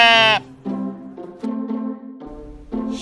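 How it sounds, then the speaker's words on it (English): Sheep bleating in a children's farm-animal cartoon, several loud, wavering bleats in a row, close and alone with no talk. "Sheep."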